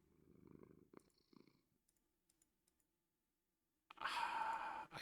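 A cat purrs softly in the GregTech New Horizons Minecraft modpack, a low rumble at first, then a few faint clicks, ending with a louder burst of noise near the close.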